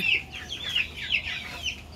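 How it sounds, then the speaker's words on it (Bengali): Chickens cluck nearby in a quick, repeated series of high chattering calls, with no talking over them. "এই যে দেখেন দুইটা মুরগি বাইরে এসছে"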